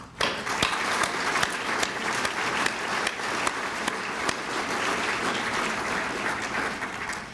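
Sustained audience applause fills a community Citizen of the Year awards event as sponsors are acknowledged, a steady crowd clapping of even loudness with sharp individual claps standing out, continuing without pause throughout.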